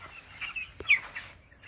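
Thirteen-day-old broiler chicks on a poultry farm in Assam, a few soft, brief peeps and chirps scattered over a quiet background, with one sharp tap in the middle.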